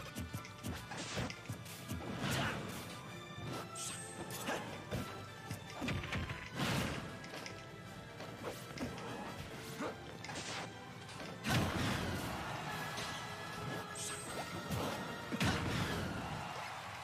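Sharp smash impacts and swooshing strikes from up smash attacks in Super Smash Bros with a Mega Man amiibo, several hits scattered over the game's background music and effects.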